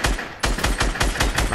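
Rapid bursts of automatic gunfire from the Fortnite video game, loud and close, with repeated sharp shots in a steady rhythm and a brief pause partway through.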